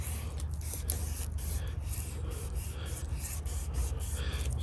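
A knife saws through a fat fire starter stick, close, continuous rasping strokes in a steady back-and-forth rhythm with no voices over it.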